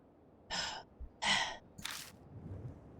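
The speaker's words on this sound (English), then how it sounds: "The only sound left is that of her shaky breathing. That panting." A woman's shaky, panting breaths in the horror game Spirit Hunter: Death Mark: three close, airy gasps in quick succession, then quiet, trembling breathing fading under faint room tone.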